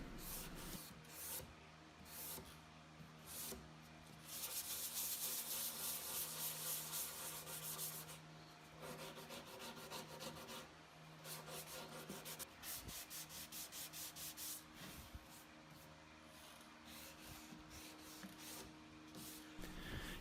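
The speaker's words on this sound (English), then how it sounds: "We'll use a wood rasp and we'll use sandpaper, go back and forth a couple of times," A wood rasp and sandpaper work back and forth across a walnut raised-panel bevel, producing steady, close scraping and rubbing strokes in uneven rhythmic passes with no voices.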